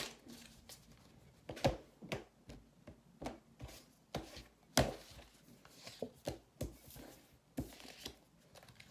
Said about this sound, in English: These cards are huge, and they're really hard to shuffle.